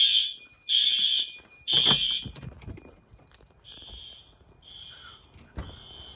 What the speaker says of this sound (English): Main area horn strobe is good.